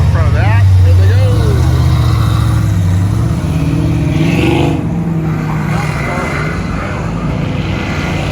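Muscle cars, including a Corvair convertible and a 1969 Chevelle, roll past on a cruise near a freeway, with loud engine rumble swelling and fading as they go by, under people talking.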